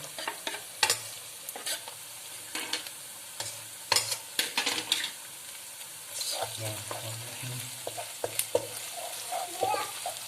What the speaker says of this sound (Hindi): अब हम इसके अंदर अपना लहसुन शामिल कर देंगे।